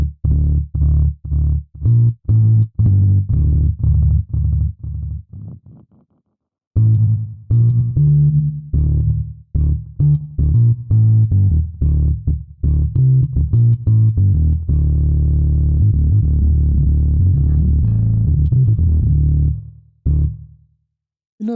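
Electric bass runs through an IK Modo Bass amp simulation with reverb and delay, playing a series of plucked notes and phrases with short pauses, then a sustained passage before it cuts off.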